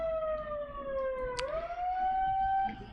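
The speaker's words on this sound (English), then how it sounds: "So the siren has gone." A siren at a sports venue sounds the start of a round-of-16 match at a national championship, a loud sustained wailing tone that falls, dips and rises again over a steady crowd murmur.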